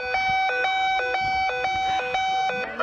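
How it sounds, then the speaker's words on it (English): A building fire alarm siren sounds loud and steady, a two-tone electronic whoop switching pitch about twice a second, with faint background noise under it. "Oh, siren."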